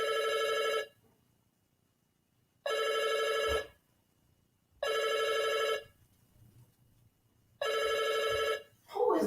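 A telephone ringtone trills in four evenly spaced bursts of bright, buzzy ringing separated by quiet gaps, with a brief voice at the end.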